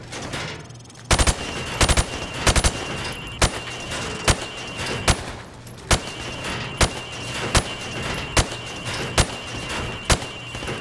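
Rifle fire at pop-up targets in Modern Warfare Remastered: a few quick clustered shots, then evenly spaced single sharp cracks about every half to one second, close and loud over faint background hum, with no talk.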